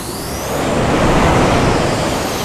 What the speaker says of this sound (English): yeah, you can really hear the roar of the engine.